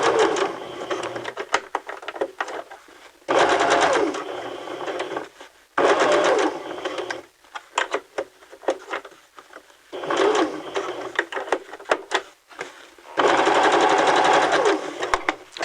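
A sewing machine stitches darts and a side seam in repeated loud, close runs of a few seconds each, separated by brief pauses.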